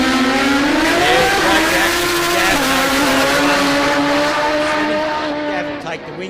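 A supercharged Suzuki B-King motorcycle makes a drag racing run at a street challenge event. Its engine howls loud and sustained, and the pitch climbs steadily through the gears before easing slightly at the end. A commentator's voice runs underneath.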